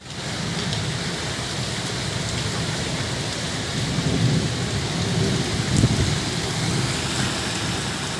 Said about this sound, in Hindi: इधर देखिए मेरे पीछे कितनी ज़ोरदार बारिश हो रही है